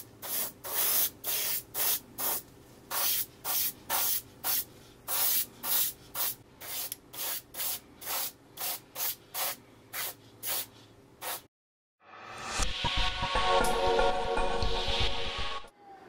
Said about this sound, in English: I've got my airbrush loaded with the color